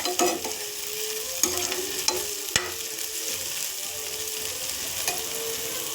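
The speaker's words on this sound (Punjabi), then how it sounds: "ਤੜਕਾ ਆਪਣਾ ਚੰਗੀ ਤਰ੍ਹਾਂ ਫਰਾਈ ਹੋ ਚੁੱਕਿਆਗਾ" Tadka frying in a pan for moth dal, a steady close sizzle broken by several sharp clinks and scrapes of a spoon stirring, heard alone without talk.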